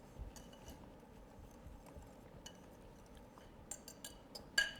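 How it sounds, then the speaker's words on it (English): A whisk scrapes and clinks lightly against a bowl while baking powder, salt and other dry cornbread ingredients are blended, with faint irregular taps and scratches and a few sharper metallic clinks near the end, all quiet. "Whisk that together so it's nice and blended."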